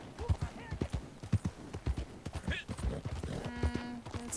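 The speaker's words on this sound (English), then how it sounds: "you can just jump to the horse and steal it" Horse hooves clip-clop in the Western video game Red Dead Online, a brisk uneven run of close, sharp hoof strikes, with a brief whinny and a player's voice talking over them.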